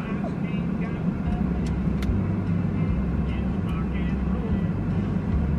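Steady low engine and road rumble inside a moving pickup truck, continuous and fairly loud, with speech-like murmur over it throughout.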